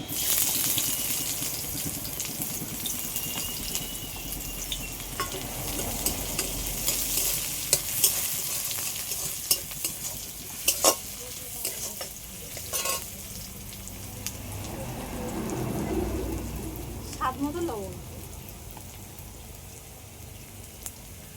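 Chopped onion sizzling and being stirred in hot ghee for a tempering, with a steady close frying hiss and occasional clinks of the stirring utensil throughout.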